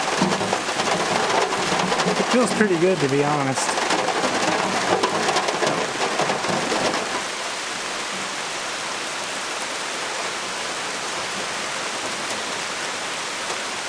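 Steady rain pours on a mountainside where a driveway is being dug by hand, a dense even hiss with a rumble in the first half that then settles to a softer patter. Someone briefly talks over it.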